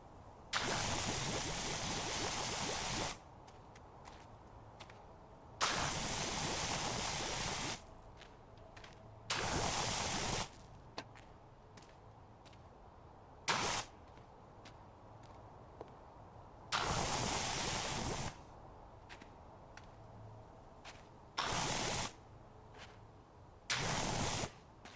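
A pressure washer blasts water while cleaning up after Thanksgiving, in repeated loud hissing bursts of a few seconds each, separated by quieter pauses and faint background noise.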